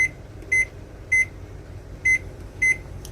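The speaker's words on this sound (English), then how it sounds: "So we're just going to set our timer" A kitchen timer or oven being set while roasting herb chicken and potatoes, giving four short identical electronic beeps at uneven intervals over a low kitchen hum.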